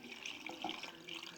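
Milk poured into a container for a homemade protein shake, a short soft liquid stream, faint and close, with no talking.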